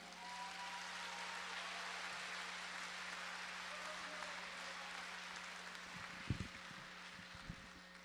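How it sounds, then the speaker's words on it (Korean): Applause from a church conference audience welcoming a pastor to the stage: a steady, even wash of clapping that fills the hall throughout, with a few louder thumps near the end. "나오실 때 한번 박수로 환영해 주시기 바랍니다"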